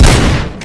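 A single loud burst of gunfire from the video game RoboCop: Rogue City cracks out up close and quickly fades, with no voices.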